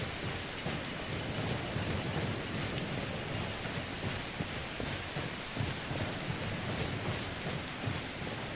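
Rain and thunder in the video game Skyrim, a dense unbroken wash of falling rain with low rumbling undertones, steady and fairly loud throughout.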